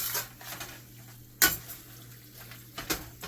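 Cheesesteak sloppy joe mixture stirred in a pan, giving soft scraping and clinking of a utensil against the pan, with a few sharper knocks spread over a few seconds and no talking.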